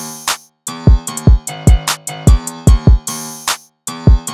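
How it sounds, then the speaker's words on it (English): Open hi-hat layered onto the drum beat, bright washy hat hits repeating in a steady pattern alongside punchy low kicks and piano-like stabs, loud and upfront with no voices. "Then add in the open hat."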